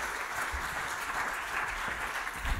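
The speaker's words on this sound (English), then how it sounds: "can I ask for a big round of applause for Rob" A round of applause for a speaker at a data science talent event, dense and continuous clapping from a crowd, fairly loud and even, with no talk on top.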